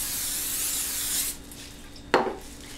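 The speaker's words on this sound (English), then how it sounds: "then we spray with cooking spray" A hiss of cooking spray onto a tray lined for fruit leather, a long spray lasting over a second, then a pause and one short sharp burst.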